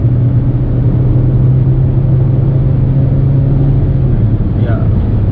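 Hyundai Alcazar engine droning steadily at high revs under automatic gear changes, a loud continuous rumble with a slight shift in tone near the end.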